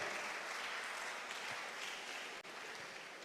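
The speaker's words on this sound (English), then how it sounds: "Clap for VENA" Audience members at a public speaking competition semifinal clap in a quiet, distant, continuous patter, broken only by a brief dropout partway through.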